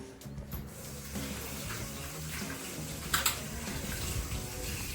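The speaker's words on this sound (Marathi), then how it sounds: "पहिलं 2-3 पाण्याने धुवून घ्यायचं" Running tap water splashes steadily in a sink as half a kilo of raw chicken is washed for biryani, with faint clatter and a couple of brief louder splashes near the end.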